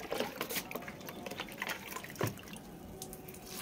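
Onion-peel fertilizer water poured from a mug onto a tomato plant, a soft irregular splashing and dripping close by, with a few louder splats.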